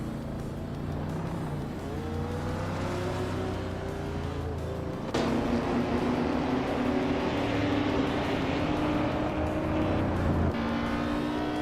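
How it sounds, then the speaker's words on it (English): A 1959 BMW 507 classic racing car engine drones in the middle of a pack of cars, a steady loud roar with rising and falling pitch as gears shift and other cars pass close by. "Gary Seventon is driving a 1959 BMW 507, a sleek and stylish classic"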